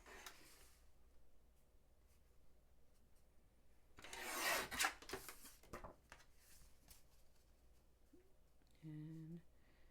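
A few seconds of scraping and rubbing sound up close and fairly loud as the side of a paper card is trimmed, with quiet handling noise before and after and a brief voice at the end.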